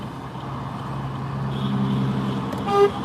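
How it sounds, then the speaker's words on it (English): Car horns honk in traffic during a protest convoy between Moose Jaw and Regina, a steady engine and road rumble throughout, with a sharper horn blast near the end. "There's crazy amounts of honking going on up in here."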